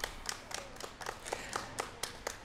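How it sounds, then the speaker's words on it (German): A few people clap after a German television interview with an SPD member of parliament, sparse, distinct hand claps in an uneven rhythm, quiet and close, with no talking. "Applaus, danke."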